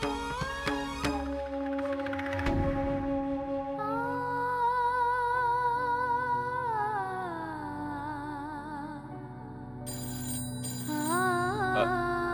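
A phone ringtone plays steadily as a sustained electronic melody, with no one speaking over it.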